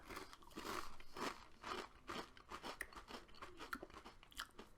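Crunching of Pom Bear-style potato crisps in a cheese and onion taste test: a quick run of close, crisp bites and chewing crunches in uneven rhythm, fairly loud and with no talking.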